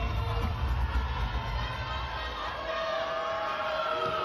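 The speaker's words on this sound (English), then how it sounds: "They got a good, healthy crowd here tonight" A healthy crowd cheers and murmurs through a professional volleyball match in an Orlando, Florida arena, a loud, steady wash of voices with no single standout shout.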